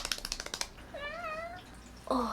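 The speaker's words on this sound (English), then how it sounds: "Come here, kitty. Oh, it's a baby cat." A baby cat gives a drawn-out, rising meow, preceded by a run of quick tapping sounds and followed by a brief second call, all close by and fairly clear.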